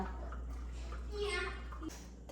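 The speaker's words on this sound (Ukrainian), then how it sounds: "Тепер вливаю сюди воду з сіллю." Salted water being poured into a bowl, a soft splashing rush that swells in the middle and tapers off, with faint room hum underneath.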